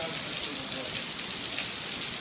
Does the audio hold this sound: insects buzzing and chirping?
no